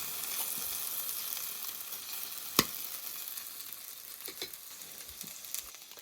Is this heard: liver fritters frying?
yes